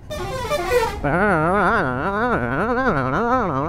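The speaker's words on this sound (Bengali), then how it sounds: "বাসের যা হর্ন" A loud, wavering musical bus horn blares close by, its pitch rising and falling in a repeating tune after a brief burst of noise.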